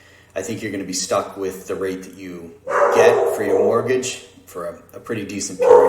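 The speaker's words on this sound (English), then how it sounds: "Excuse the barking dog." A dog barks intermittently in the background while someone talks steadily over it.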